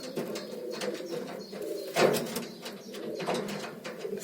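Homing pigeons cooing inside a pigeon loft with nesting boxes, several birds giving soft, repeated throaty coos close by, overlapping one another with a louder coo near the middle, and no talking.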